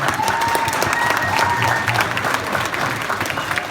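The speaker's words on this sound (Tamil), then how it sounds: "தமிழ்நாட்டு அரசு கூட கைத்தட்டலாம்." Crowd applause at a Tamil-language speech, many people clapping in a dense, sustained wash with a few light cheers mixed in, steady in loudness throughout.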